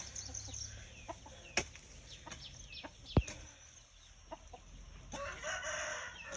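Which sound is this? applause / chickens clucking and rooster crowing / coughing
chickens clucking and rooster crowing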